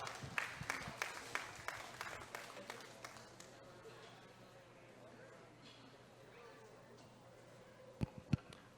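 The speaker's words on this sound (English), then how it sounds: "let's give all those exhibitors a nice big round of applause" Crowd clapping for exhibitors at a junior fair steer show, loud and sharp at first, then thinning into a faint patter with a few scattered claps near the end.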